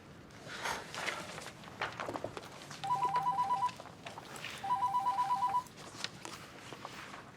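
A telephone rings in two bursts of warbling electronic trills, moderately loud in a quiet indoor room with faint movement and footsteps around it.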